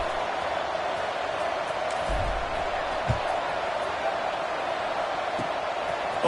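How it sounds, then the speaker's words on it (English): Stadium crowd buzzing at a college football game with Alabama, a continuous broad murmur and roar holding steady, with a few faint thumps scattered through it. "this crowd is buzzing after that last score"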